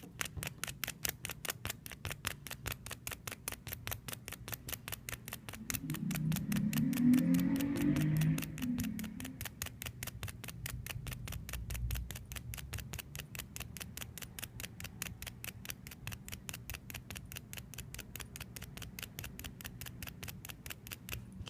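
A magnet is rubbed rapidly along a second paper clip, giving a close, steady run of quick scraping strokes, about three per second, with a brief low voice murmur partway through.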